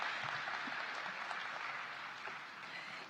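Audience applause at a winter commencement ceremony, a steady, fairly quiet wash of clapping from a crowd that holds evenly throughout without voices.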